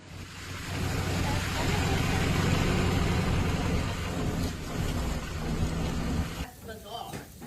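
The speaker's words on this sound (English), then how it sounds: "the storm brought heavy snowfall, freezing rain, strong winds," A winter storm of freezing rain and strong winds roars as a steady, loud wash of rain and gusting wind with deep rumbling, easing slightly near the end.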